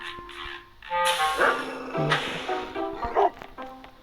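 Dog barking and yipping in the stealth video game Robbery Bob 2, several loud close barks with whimpering tones in quick irregular bursts.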